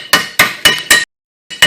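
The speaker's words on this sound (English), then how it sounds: "Time for more chip and hammer action." Hammer chipping thick rust off the rotor hub during a rear brake job on a 2002-2006 Nissan Altima: four sharp, loud metallic strikes in quick rhythm, a brief pause, then another pair of hits.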